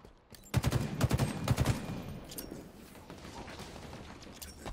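Rapid bursts of gunfire from a battle rifle in Halo Infinite, a tight cluster of loud shots early on, then quieter scattered shots and game ambience trailing off.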